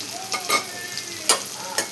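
Pav bhaji stirred with masala in a hot pan: a soft sizzle runs beneath several distinct scraping strokes of a spoon against the metal, close and fairly loud.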